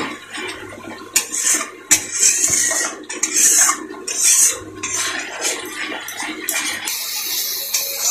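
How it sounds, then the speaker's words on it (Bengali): Water splashes into a pan of cooked-down spice masala in bursts, with metallic clatter of a pot and utensils close by and no talking. "মশলা কষানো হয়ে গেছে, এখন এখানে জল দিয়ে দিব।"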